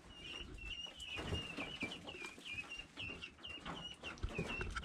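Young chickens fed chick starter and mealworms on a ranch chirp and cluck softly and repeatedly, in rapid close-up peeps with faint rustling beneath.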